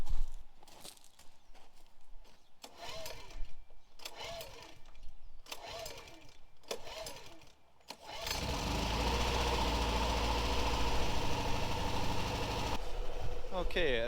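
A petrol engine on a window and gutter cleaning machine is handled with a few rattling pulls, then it catches and settles into a steady, loud, close idle that runs to the end.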